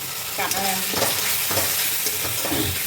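Onions, spices and a ginger-garlic-pepper paste being stir-fried in a pan for a cauliflower dish, with a steady sizzle and repeated scraping stirs throughout, no talking.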